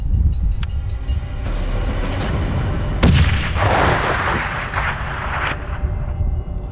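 A rifle shot fired at a ram during a mountain hunt, one loud sharp crack at about three seconds followed by a rolling echo that decays across the open terrain, with steady wind rumble throughout.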